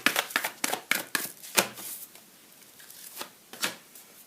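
Tarot cards are shuffled by hand for a reading, producing a run of close, crisp riffling slaps and flutters, dense at first and then sparser and quieter, with no voices.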